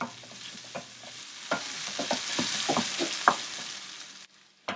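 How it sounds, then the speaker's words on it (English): Vegetables for cranberry vegetable rice are stirred in a pan, a spoon scraping and clacking in quick irregular strokes over a steady close sizzle, with a short quiet gap before the frying resumes. "give them a stir."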